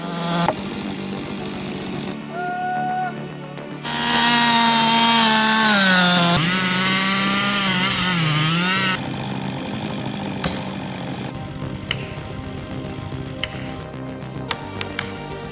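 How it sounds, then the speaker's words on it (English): A Ripsaw 500i chainsaw with a long bar revs and bogs as it bites into a big silver maple trunk, its pitch rising and falling, then settles into a lower idle with scattered knocks. "Clean cut, big trunk. That chainsaw bites smooth"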